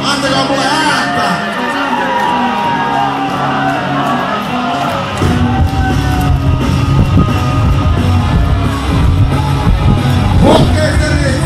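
Rock cruise audience yelling on command, a steady crowd din that swells suddenly halfway through into louder shouting, whoops and bellows that continue to the end.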